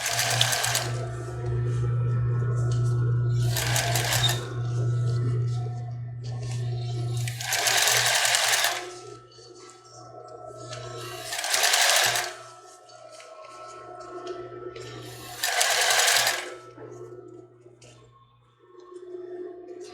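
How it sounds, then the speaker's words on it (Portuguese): A sewing machine stitches around the edge of a padded foam bra cup, running in five or six short bursts of whirring with brief stops between them over a steady low hum. "a gente vai costurando e vai contornando"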